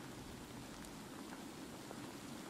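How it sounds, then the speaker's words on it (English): Steady video game rain hisses evenly throughout, a soft continuous wash of falling drops with no voices. "Really nice rain sound effects."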